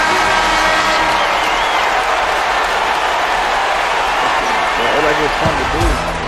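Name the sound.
home crowd cheering in the NBA 2K11 video game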